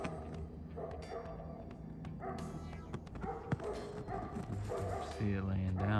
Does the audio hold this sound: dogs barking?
yes